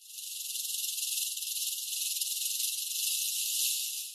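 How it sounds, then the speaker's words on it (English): A rattlesnake's tail rattle gives a continuous, high-pitched buzzing warning that holds steady for several seconds, close and loud, with no pauses. "create a warning signal, a distinctive rattle that reverberates throughout the environment"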